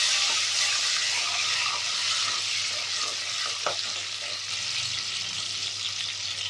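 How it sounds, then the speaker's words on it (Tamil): Garlic, curry leaves and green chillies fry in hot oil, giving a loud, continuous sizzle with faint stirring scrapes throughout. "பூண்டு, கருவேப்பிலை, 2 பச்சை மிளகாய் காரத்துக்கு. ஸோ இதெல்லாம் நல்லா எண்ணெயில் நல்லா வதங்கணும்."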